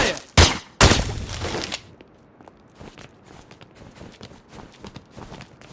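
Gunfire in The Godfather II video game: two sharp loud shots close together near the start with a lingering blast tail, followed by quieter scattered footsteps and movement.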